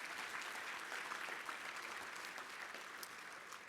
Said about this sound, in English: Give them a big round of applause and thanks for their service and commitment.